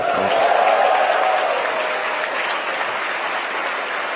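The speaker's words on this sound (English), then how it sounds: "You can hear the applause from Mission Control." Applause and cheering break out in SpaceX Mission Control during a Falcon 9 launch, a steady broad wash of clapping from a large crowd that holds loud for about four seconds with a faint tone underneath at the start.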